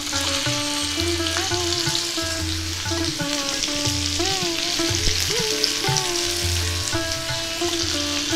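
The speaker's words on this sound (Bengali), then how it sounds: "রসুন কুচিটা হালকা ভাজা হতে না হতে আমি চিকেনের টুকরোগুলো দিয়ে দিচ্ছি" Chicken pieces frying with chopped garlic in a pan for restaurant-style gravy noodles make a loud, continuous sizzle, with tonal hums and stirring noises running underneath.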